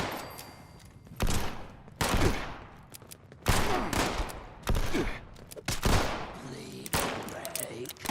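Gunfire from the player's gun in Fallout 76 comes as loud single shots or short bursts spaced about a second apart, each with a sharp crack and decaying tail.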